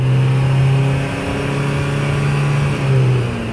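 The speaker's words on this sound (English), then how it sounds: "I'll give it a bit of throttle now" A Nissan Micra engine with a P0171 lean fuel-trim fault is held at about 3,000 RPM, a loud, close, steady revving drone that wavers slightly and dips briefly before rising again.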